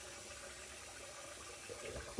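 Warm water runs steadily from a tap for rinsing during a shave, a faint continuous hiss and splash with a few small sloshes near the end.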